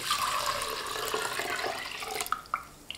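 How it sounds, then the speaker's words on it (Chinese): Water poured over soaked glutinous rice in a rice cooker pot, a quiet, steady splashing pour that ends in a few close drips and splats. "这是我提前一晚浸泡好的糯米，放在电饭煲中，放入多一点的清水"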